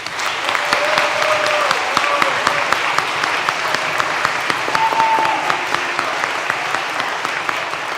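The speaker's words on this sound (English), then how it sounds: "So now we'll clap." Audience applause at a congregation's farewell gathering for students moving up to middle school, a dense, steady wash of many hands clapping throughout, fairly loud and even, with no talking over it.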